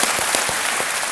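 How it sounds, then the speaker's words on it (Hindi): Studio audience applause on the Hindi quiz show KBC, a steady dense wash of clapping filling the short moment, loud and continuous with no talk over it. "तालियों के साथ इनका स्वागत किया जाए।"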